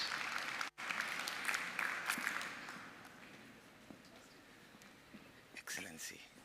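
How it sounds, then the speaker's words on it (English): Audience applause at an energy conference as two speakers walk to the stage, a fairly quiet wash of many hands clapping that swells, fades gradually, then rises briefly again near the end. "So please, a round of applause for both of them as they make their way to stage."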